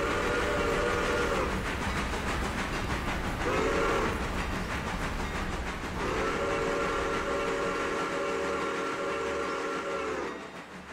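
Passenger train in a video game, a steady rolling rumble under three long horn blasts, the last held for several seconds, loud and near.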